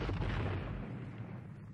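A single deep cannon boom from period artillery fire at the Battle of Waterloo rolls out loud at first, then decays into a long rumbling echo.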